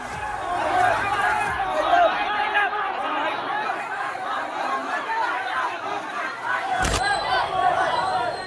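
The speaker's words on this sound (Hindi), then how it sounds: "आई लव मोहम्मद लिखे बैनर और तख्ती के नीचे सैकड़ों की भीड़ उतर गई।" A crowd of hundreds gathers under banners and placards reading I Love Mohammad in a Kanpur neighbourhood street, producing a steady murmur of chatter and babble with scattered laughter throughout, and a brief sharp burst near the end.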